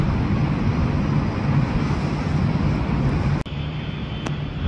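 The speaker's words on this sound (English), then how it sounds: "taxiing down for departure on 24 left is Lufthansa A380" A Lufthansa Airbus A380 taxis for departure at LAX, its engines giving a steady, loud broadband roar heard from nearby with wind noise, easing slightly after a brief dropout near the end.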